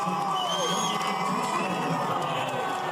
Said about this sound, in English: to greet the crowd from a balcony, he received a big ovation